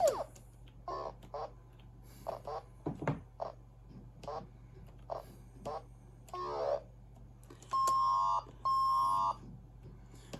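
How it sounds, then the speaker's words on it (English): Harsh electronic beeps and blips from the PC speaker of a Compaq LTE Elite 475CX laptop, short bursts scattered over a faint background hum, ending with two long steady buzzing tones. "These are horrible sound effects, and whoever made the PC speaker version ought to be ashamed."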